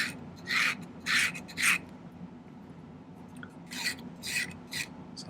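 Hand file strokes on metal being flattened for a two-stone turquoise ring, a close, rasping scrape repeated in two bursts of three to four even strokes separated by a short pause.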